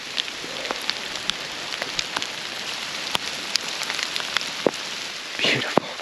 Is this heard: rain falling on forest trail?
yes